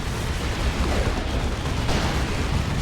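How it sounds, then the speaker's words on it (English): Plasma cannon shot in the Warhammer 40k game Dawn of War 2, a loud, broad, rumbling blast amid continuous battlefield noise and explosions, with no clear separate strikes. "What was that? A plasma cannon shot?"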